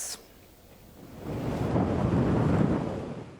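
Heavy monsoon rain in Chattogram, Bangladesh, roars in a dense, steady wash that swells to a loud, rumbling peak midway before easing slightly, with no voices.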